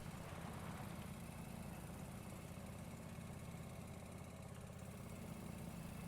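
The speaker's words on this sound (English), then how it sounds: "Little lawnmower and whatnot." A small lawnmower engine in a farming video game runs at a constant idle. It gives a continuous, even low drone with a buzzing vibration and no change in pitch or volume.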